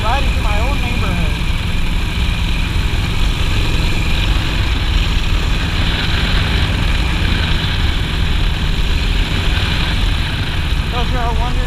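A Harley-Davidson Sportster Revolution S rumbles steadily while riding through a neighborhood in San Antonio, Texas, a loud continuous low engine drone mixed with wind rush, and someone talks over it intermittently.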